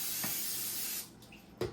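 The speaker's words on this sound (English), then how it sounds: "And I'm going to spray the other half side." A steady olive oil cooking spray hisses for about a second over turkey drumsticks, then stops, followed by a short burst and a faint knock.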